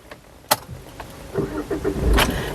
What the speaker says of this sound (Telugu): ఈ కారు సింగిల్ సెల్ఫ్లో స్టార్ట్ అవుతుందా లేదా అన్నది చూపిస్తున్నాను